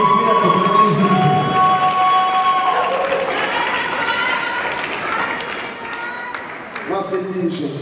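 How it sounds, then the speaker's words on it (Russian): An audience applauds and cheers steadily after a dance performance at a ballroom dance festival. A host speaks over the clapping throughout, and the crowd noise slowly fades toward the end. "Аплодируйте, аплодируйте, они заслужили эти аплодисменты, дорогие зрители."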